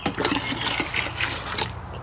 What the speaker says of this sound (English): now we're gonna add my 75 grams of dissolved lime